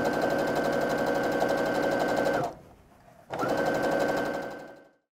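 A sewing machine stitches down strips of quilt fabric, running loud and steady with a rapid mechanical hum, stopping briefly, then resuming before winding down.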